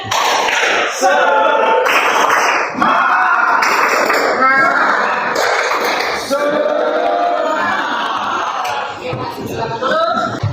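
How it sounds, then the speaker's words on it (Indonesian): A classroom group of Indonesian trainee teachers performs a rhythmic spirit clap as an ice-breaker: sharp, evenly spaced clap bursts, close and loud, interwoven with the group's voices chanting along. "tepuk semangat"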